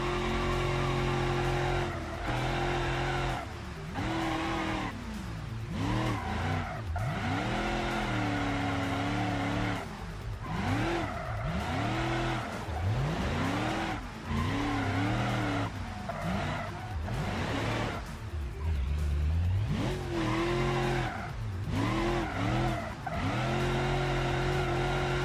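A race car drifts in a driving game on the Insane Roads map, its engine droning steadily while repeated tire squeals rise and fall in long sweeping arcs, loud and continuous without talk.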